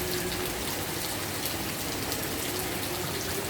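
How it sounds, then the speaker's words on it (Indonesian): Heavy rain pours down steadily on a housing complex, a dense, constant hiss of water hitting roofs and flooding streets, loud and unbroken throughout. "sore ini menjelang asar tiba-tiba hujan keras sekali, dan air mulai menggenangi jalan di kompleks perumahan"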